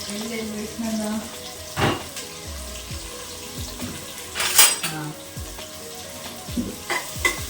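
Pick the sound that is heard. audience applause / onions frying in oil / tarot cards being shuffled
onions frying in oil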